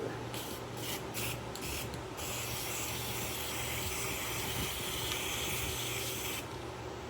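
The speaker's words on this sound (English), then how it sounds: "So that was a straight on spray." A continuous hiss of an aerosol can spraying silver paint onto a plastic Brute bin lid, steady and close, with a few short sputtering bursts at the start before a long even spray.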